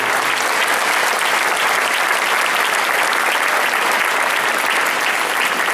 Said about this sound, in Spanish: Fuerte el aplauso por la entrega de estas menciones.